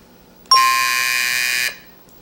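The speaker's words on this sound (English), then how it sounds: "Right on the buzzer, Susan." A game show buzzer sounds once, a single flat electronic tone held for about a second before cutting off, loud and alone in a quiet room.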